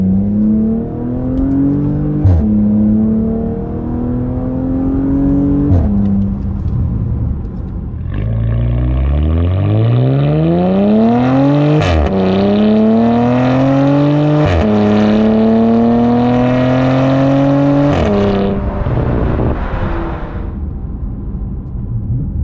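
A Porsche Panamera 4S with a PID exhaust driven in sport mode, its engine loud and close, climbing through several rising pulls with gear shifts and a final long surge before easing off, with no talking.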